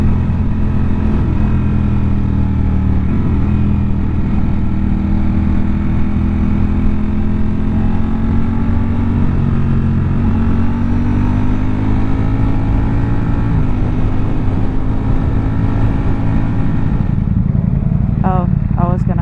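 A Ducati Panigale V4S is ridden at steady speed, its engine droning loud and continuous with small shifts in pitch, wind roar throughout and a brief burst of revving near the end.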